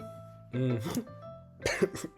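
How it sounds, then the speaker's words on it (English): Two separate coughs, close and fairly quiet, each a short rough burst, with a soft throat-clearing quality and a pause between them. "I coughed"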